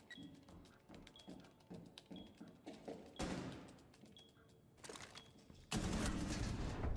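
Rapid gunfire bursts crackle through a video game firefight, with clusters of quick shots, brief pauses, and a loud, sustained volley at the end.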